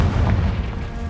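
Confringo explosive spell blast in the Hogwarts Legacy video game, a deep booming burst with heavy low rumble that fills the whole second without a sharp onset.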